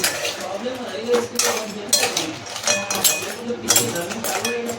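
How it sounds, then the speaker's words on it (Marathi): A spoon scrapes and clinks against a pot while crab curry is stirred, with the irregular metallic knocks sounding close and moderately loud under soft background talk. "त्याला हलवून घ्या."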